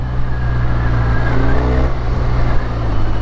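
A BMW R12 motorcycle with a boxer engine as the throttle is twisted, giving a steady, loud, close engine drone with low rumble throughout and no talk.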